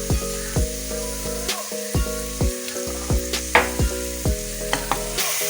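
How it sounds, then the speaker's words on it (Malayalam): Chopped onions sautéing in a pan for paneer butter masala, a steady sizzle with repeated scraping stirs at a regular rhythm, close and fairly loud, no talking. "2 ഉള്ളിയിൽ നമ്മൾ കുറച്ച് ചെറുതായിട്ട് അരിഞ്ഞ് അതൊന്ന് നന്നായി വഴണ്ട് വരട്ടെ"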